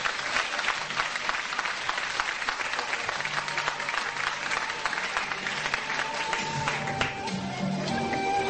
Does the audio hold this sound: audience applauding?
yes